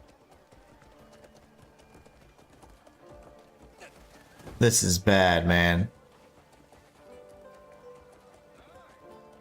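An injured horse moves slowly in the video game Crimson Desert, its hooves clip-clopping faintly and steadily in the background while someone speaks briefly in the middle.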